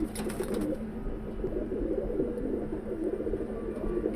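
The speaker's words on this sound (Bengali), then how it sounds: "এই যে এটাও অনেক পুরাতন কবুতর" Old pigeons coo in soft, repeated low warbling calls over a steady background hum, fairly close but quiet.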